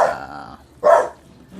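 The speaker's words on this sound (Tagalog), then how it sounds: "Nagagalit sa pusa yung aming alagang aso." A pet dog barks and growls angrily at a cat, with a sustained growl followed by a single loud, close bark after a short pause.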